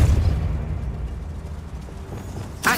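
A Depulso spell cast in Hogwarts Legacy sets off a deep, booming burst, fading into a low rumble, with a sharp crackling pop near the end.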